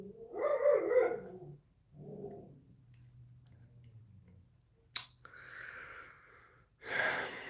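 A dog gives a couple of short barks early on, followed by a few quieter rough barks or gasping yelps and then further sharp bursts near the end, fairly close, with no talking.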